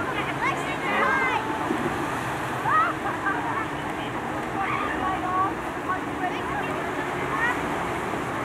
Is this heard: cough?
no